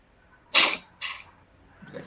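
A single sharp sneeze bursts out, followed by a softer breathy second sound and a brief exhale.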